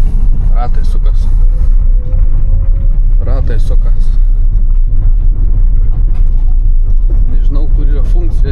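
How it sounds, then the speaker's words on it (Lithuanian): A car's wheels spin on dry, stone-strewn ground while trying to pull away without a run-up, giving a loud, continuous engine and tyre rumble that runs throughout, with people talking over it. "Ratai sukas."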